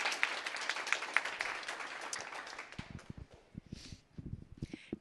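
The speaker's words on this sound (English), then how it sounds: "Let's give some applause to Banana Republic." An audience at a career fair professional dress fashion show claps for Banana Republic, a moderate burst of applause that thins after a few seconds into scattered claps and footsteps with faint voices.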